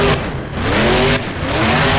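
A Hot Wheels monster truck spins around in the BeamNG driving game: loud, steady engine roar with revving and tire squeal throughout, heard alone without talk.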